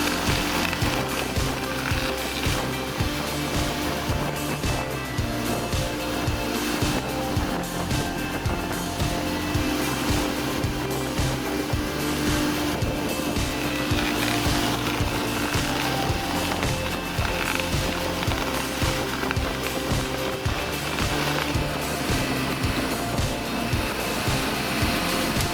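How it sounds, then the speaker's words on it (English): A heavy stump grinder working across rough terrain grinds out a tree stump, its engine and cutting wheel making a loud, steady roar with a constant low rumble and continuous harsh noise throughout. "Do you want to see a versatile stump grinder in all terrains?"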